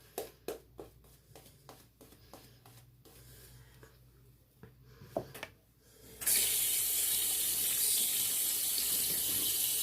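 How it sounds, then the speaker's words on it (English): A running tap gushes steadily over hands being rinsed of shaving-soap lather, loud and close, after a few seconds of scattered small knocks and clicks near a sink. "Rinsing off the hands to get any excess lather off."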